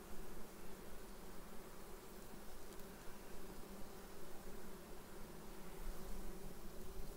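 A dense, steady drone of many bees buzzing close by at a hive, a continuous hum that swells and eases slightly with no talking.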